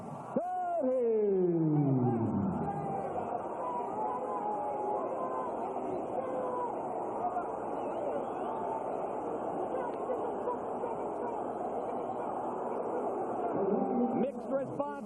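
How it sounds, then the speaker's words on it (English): Boxing arena crowd reacting to the judges' decision in an Arturo Gatti junior lightweight title fight, a loud sustained roar and babble of mixed cheers and boos filling the hall throughout, with a brief descending tone at the start. "Mixed response from the crowd. Some of them liked the decision. Some of them didn't."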